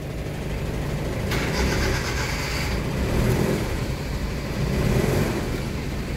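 An Isuzu Trooper engine cranks and catches with a sharp onset, then settles into a loud, steady mid-pitched idle heard close up with no talking.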